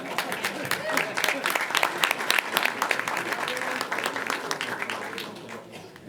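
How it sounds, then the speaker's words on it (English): A city council workshop audience gives a round of applause, a dense stream of many hands clapping at once with voices mixed in underneath. "Let's give another round of applause"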